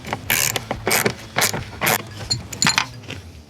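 A 10 mm screw is being removed from the fuel tank release trim of a 2013 Scion tC with a ratchet, a rhythmic series of metallic clicking bursts with faint jangling, close and alone.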